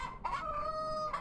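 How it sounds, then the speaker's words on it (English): A rooster crows once, close and clear, in the video game Yes, Your Grace, with a short rising call followed by a long sustained tone that fades out. "Rooster."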